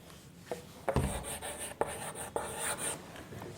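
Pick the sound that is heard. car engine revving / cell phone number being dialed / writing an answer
writing an answer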